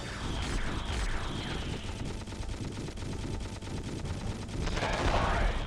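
Rapid automatic gunfire from the nose gun of a plane in the arcade shooter Knife Edge: Nose Gunner, aimed at a target's fins: a fast, steady rattle of mechanical shots that runs throughout and swells louder toward the end.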